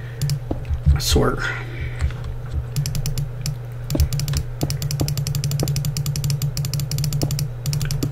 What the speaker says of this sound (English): Probably hear me furiously clicking.